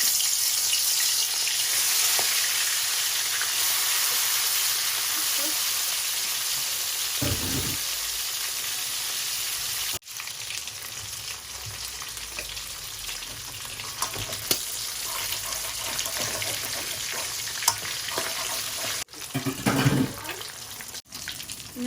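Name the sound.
hilsa fish pieces frying in hot oil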